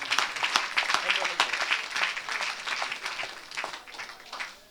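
Congregation applauding and cheering at a church deliverance service, a dense, steady wash of clapping lasting several seconds with voices mixed in.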